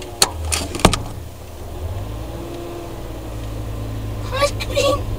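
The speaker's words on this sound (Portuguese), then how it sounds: "há de poner o carro a trabalhar, o motor a funcionar" A car engine catches after a couple of sharp clicks, then settles into a low, steady idle hum, with faint voices near the end.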